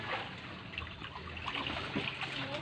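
Water trickles and dribbles as it spills out onto plants, a steady soft pouring that runs continuously and fairly faint with no talk.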